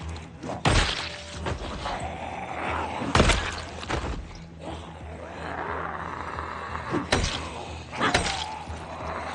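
An axe strikes zombies in Project Zomboid, landing as several heavy, separate thuds spaced a few seconds apart, with rumbling game ambience filling the gaps.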